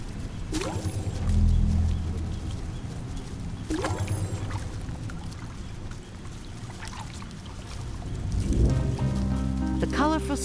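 Rain falls on insects in the wild, a steady dense patter of drops with occasional sharper splashes, continuous and fairly close throughout.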